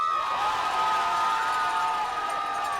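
The home North Haven crowd at a Friday night high school football game against Bunnell roars steadily, a loud, sustained wash of cheering and shouting voices from the stands.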